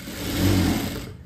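A sewing machine runs in one short steady burst, putting a small tack stitch into blouse fabric for a Paithani blouse; a loud close whirring hum that fades out at the end.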